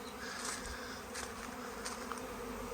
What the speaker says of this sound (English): absolutely loud roar of swarm of bees have turned up